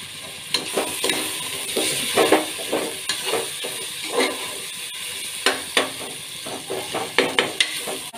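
Onions and tomatoes sauté in a hot pan for chicken biryani, a constant close sizzle with repeated scraping and tapping from a spatula stirring at an uneven rhythm, no voices.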